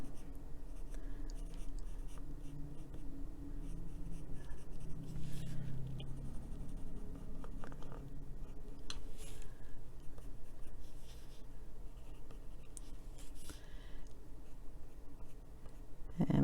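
Pencil scratching lightly on paper while filling in a drawn face's eyebrows, a quiet, continuous soft rasp of short strokes close to the microphone, with no talking.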